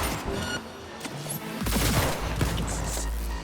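Rapid gunfire from a power precision rifle in the video game Cyberpunk 2077, a dense burst of loud, booming shots with heavy low thumps in the middle of the clip, with no talking.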